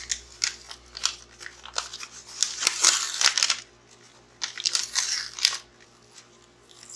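Protective film is peeled off an Arcade1Up control board in close, crackly ripping bursts, several separate pulls with quiet gaps between, and no talking.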